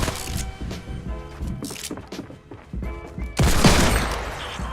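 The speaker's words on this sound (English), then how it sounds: "I hit the floor and I pop him with the revolver shot in the face" Revolver gunshots in a competitive shooter video game, several sharp cracks amid other game noise, ending in a louder burst of firing with a lingering crackle.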